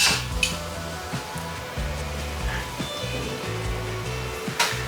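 Ginger garlic paste and biryani masala sauté in a pot, a low sizzle under repeated metallic scraping and knocking of a ladle against the pot, close and fairly steady.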